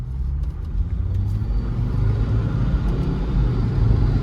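Mahindra Rexton SUV with 180 bhp and 400 Nm engine driving hard into a turn, loud close engine roar and road rumble sustained throughout without speech.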